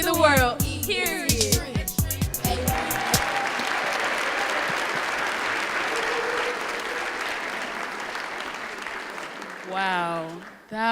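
After a student performance at a Cobb student recognition breakfast, an audience bursts into steady applause that holds for several seconds, following brief voices and music at the start and giving way to a spoken voice near the end.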